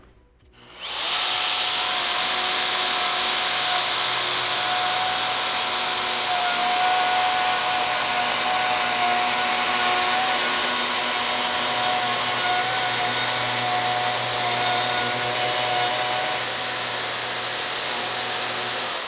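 A router-style power tool cutting along a table edge to fit C-channel track spins up after a short silence and holds a loud, steady whine with a faint hum for the rest of the clip.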